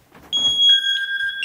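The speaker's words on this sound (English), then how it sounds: "But if it's given a large movement, then you'll get a full alarm activation." A Knog Scout bike alarm goes into full activation after a large movement, sounding a loud, sustained two-tone electronic scream that starts after a short rattle and holds steady.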